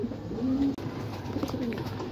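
A racing pigeon coos softly at the loft after returning from a 113 km training flight, giving a couple of low, short cooing phrases close by against quiet outdoor background.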